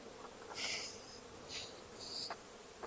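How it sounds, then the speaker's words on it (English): Honeybees swarm and buzz around brood frames lifted from a hive while nucs are split off, a steady close drone with louder bursts as insects fly past, no voices. "A lot of bees."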